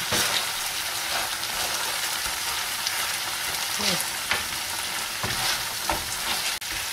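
Spring onion sizzles steadily in hot oil, stirred through a coconut-milk tilapia dish with scraping strokes and soft clacks of the utensil against the pan.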